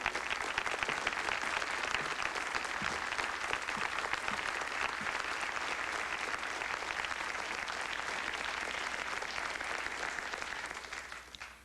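Sustained applause from an audience honoring a prize winner, a dense, steady wash of many hands clapping for over ten seconds before tapering off at the end.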